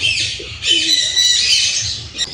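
Many white pigeons coo softly among a busy wash of chirping birds at a small zoo, close by and continuous.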